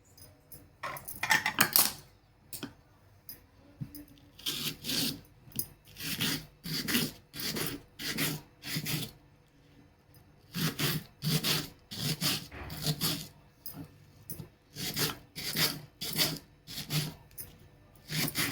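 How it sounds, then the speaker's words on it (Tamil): An onion is finely chopped on a board in repeated bursts of rapid rasping knife strokes, with short pauses between the groups, close and moderately loud. "இப்போது ஆனியன் எடுத்து வச்சுக்கலாம். அதை பொடியாக கட் பண்ணி வச்சுக்குவோம்."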